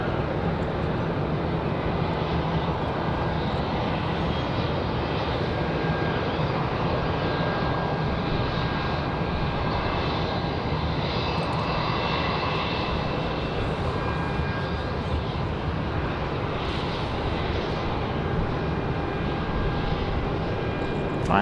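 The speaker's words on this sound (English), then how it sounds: "there's our 737." Boeing 737 jet airliner at Raleigh-Durham International Airport, a loud, steady engine roar that holds at a constant level throughout, without voices.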